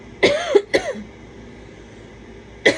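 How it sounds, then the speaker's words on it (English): Three short, sharp coughs from a nearby person, two in quick succession followed by a pause and a third after about two seconds. "I have not had a cough at all until I did this reading."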